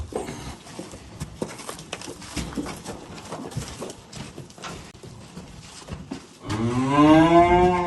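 A striped Swiss and Alatau crossbreed dairy cow lets out one loud, close moo near the end, after a stretch of shuffling, hoof knocks and farmyard clatter.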